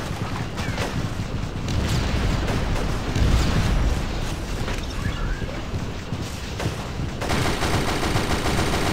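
Gunfire in the Shadowgun video game: dense, sustained bursts of rapid shots and impacts, loud and busy throughout, with a brief shift in texture near the end and no talk over it.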